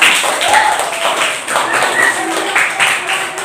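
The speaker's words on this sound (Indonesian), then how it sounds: "Tepuk tangan untuk kelompok pram." Students in a classroom clap for a group with a short burst of scattered, uneven handclaps, and voices murmur underneath.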